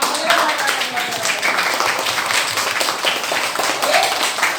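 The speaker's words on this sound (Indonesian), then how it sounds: "kita tepuk tangan dulu untuk kita karena kita sudah menyelesaikan pembelajaran" A class claps together to close a lesson, with dense, continuous clapping at a steady level throughout and a busy room sound behind it.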